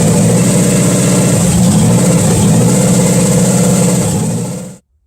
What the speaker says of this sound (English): And it runs evenly. We've taken, we fired up the motor and everything.